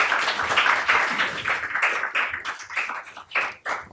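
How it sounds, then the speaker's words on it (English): Audience clapping for a conference panel, a fairly close burst of hand claps that thins out and fades over a few seconds, with a voice faintly mixed in. "could we get a round of applause for the panelists"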